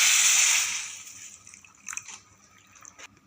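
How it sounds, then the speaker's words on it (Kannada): Water poured into a cooking pan for a mixed sprouted-legume palya, a bright rushing pour for the first half second that fades into faint trickles and a few small splashes. "ಈಗ ಇದಕ್ಕೆ ನೀರು ಹಾಕಿ ಸ್ವಲ್ಪ ಕುದಿಸ್ಕೋಬೇಕು ನೋಡ್ರಿ."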